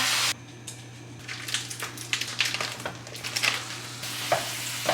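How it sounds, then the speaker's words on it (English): Steady sizzling from a hot pan of bison meat cooking in avocado oil spray, with scattered crackles and pops, a constant low hum running underneath. "So we're gonna cook my bison."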